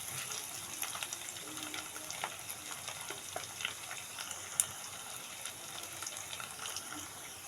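Onions frying in a pan for a chicken curry, a steady soft sizzle and crackle with occasional stirring clicks, faint and close, with no talk.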